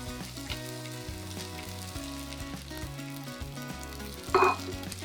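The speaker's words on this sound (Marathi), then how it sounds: "चला तर मग हे 1-2 मिनिटभर परतून झालं वाटण की यामध्ये हा भिजवलेला साबुदाणा घालायचा." Green pea paste sautéing with soaked sabudana in a pan for khichdi, a steady close sizzle and frying crackle running throughout with a brief louder stir or scrape near the end, no talking.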